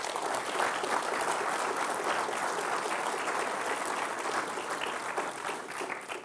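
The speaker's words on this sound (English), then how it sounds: "let's give them a round of applause" A conference crowd at MITRE ATT&CKcon 2.0 closing remarks applauds the communications and events staff: a steady, even patter of many hands clapping, moderately distant and sustained throughout without talk.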